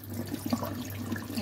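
Raw jackfruit pieces are rinsed in water to wash off the sticky sap, giving a steady close splashing and trickling of water with soft sloshing, no voices.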